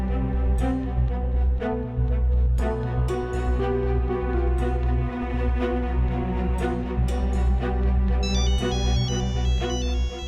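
A melodic phone ringtone plays continuously for about ten seconds, bright chiming notes repeating over a steady bass, loud and close with no voices.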